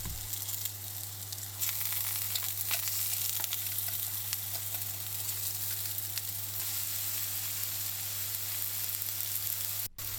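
Japanese chicken tsukune meatballs fry in a pan with a steady, close sizzle and crackle throughout, a low constant hum beneath. Faint scrapes and pops come in now and then, and the sound cuts off briefly near the end.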